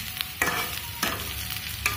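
Potatoes fry in a pan at home with a steady low sizzle, and a few distinct stirring scrapes sound at intervals. No voices are heard.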